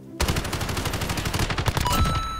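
Rapid gunfire from a Modern Warfare gun game match, dense automatic bursts firing nearly nonstop at close range and loud, with no talking over it.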